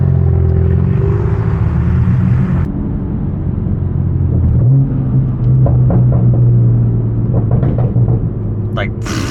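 BMW M3 engine rumbling loud and low on a night drive, heard from inside the car, with a deep steady drone that swells midway and some clatter; people talk over it.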